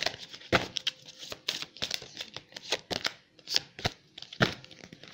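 Tarot cards are handled and shuffled close up in quick irregular bursts of papery slaps, riffles and crisp snaps, with short gaps between flurries and no voice over them.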